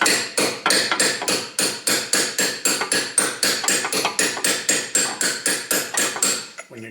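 A small body hammer taps repeatedly on a Subaru WRX STi rear wheel bearing, giving sharp, close metallic strikes in a steady, even rhythm, about three to four per second, with no talking.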